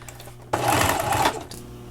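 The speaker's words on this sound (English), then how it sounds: "We're going to stitch both sides of the elastic with 1/4 inch seam allowance." Sewing machine stitching a seam along an elastic headband with a quarter-inch allowance, a short burst of fast rattling stitches lasting about a second between quiet pauses.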